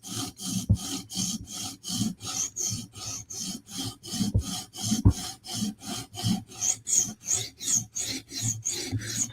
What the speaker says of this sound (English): we're just kind of sawing into the heel by turning the stone a little bit